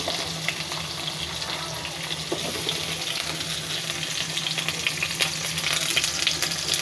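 Fish with spices, garlic and onion sizzles steadily in hot oil in a pan, a constant crackling hiss with occasional stirring, without any voices.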